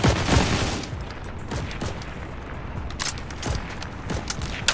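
Rapid bursts of gunfire and scattered shots crack through a busy World War II battlefield in the game Heroes & Generals, with distant booms and mechanical rattles underneath, no voices heard.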